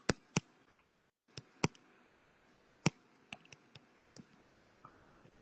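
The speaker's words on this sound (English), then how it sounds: "that's probably me clicking on this" Computer mouse clicks land sporadically, sharp dry ticks spaced irregularly with a short silent gap, close and fairly quiet against a faint room hum.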